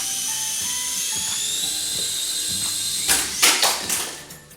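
A Super Mario Nintendo RC toy helicopter spooling up for a hand launch, its small rotor giving a steady high whine that swells into louder, choppy surges near the end, close by with no talk.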